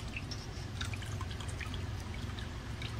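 Steady running water rinses scrubbed food in a kitchen while collagen is made at home, a continuous close splashing trickle with scattered drips and no voices.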